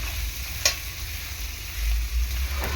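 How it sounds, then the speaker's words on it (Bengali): Shrimp frying in a pan with turmeric sizzles steadily up close, with a brief clatter of stirring and a swelling hiss near the end and no talk. "যখনই আমি এই যে ভাজবো চিংড়ি মাছটা"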